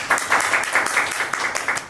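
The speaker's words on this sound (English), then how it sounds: "give a round of applause" An audience at a talk on Agile and AI claps to welcome the speaker to the stage: a brief, full round of many hands, lively and fairly close, swelling and dipping slightly without any voices on top.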